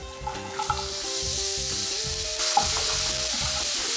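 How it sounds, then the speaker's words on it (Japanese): Shimeji mushrooms sauté with garlic in a hot pan, giving a steady close sizzle with the scrape and clack of a utensil stirring now and then, growing a little louder partway through. "しめじですね。 これ入れて炒めたいと思います。"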